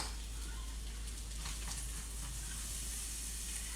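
Onions frying in a hot pan give a steady, fairly faint sizzle and hiss that stays even throughout, with no voices over it.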